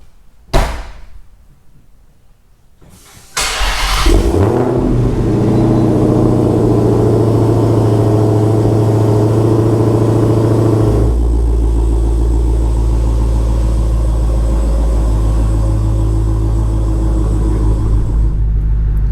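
A Dodge Hellcat Challenger fitted with a Demon engine, in a tuning garage: a click and brief quiet, then the engine fires up loud and settles into a deep, steady rumbling idle that shifts partway through.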